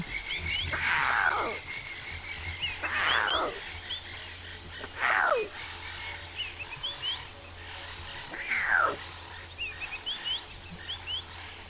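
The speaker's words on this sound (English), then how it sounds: "I can hear the other lions answering." Lions calling back and forth in the South African bush: four drawn-out, falling calls, loud and spaced a couple of seconds apart, over a low steady hum.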